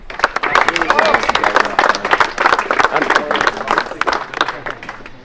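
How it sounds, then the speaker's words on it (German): At a turbo-kart race in Wohlen, a crowd applauds the podium finishers with a burst of uneven clapping mixed with cheering and chatter, close and lively, swelling and fading over several seconds. "Ein riesen Applaus für Low Budget Racing."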